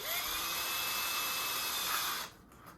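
A small power drill bores holes into two small pieces held off the table, a loud continuous high whine lasting about two seconds before cutting off, followed by quiet.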